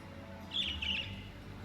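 A bird in the Trails of Cold Steel game gives a short bright chirping call, two quick high tweets over soft background ambience.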